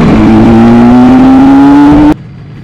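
A 1983 Yamaha RD-350 two-stroke motorcycle engine revving loud and close, its pitch climbing steadily for about two seconds before cutting off abruptly.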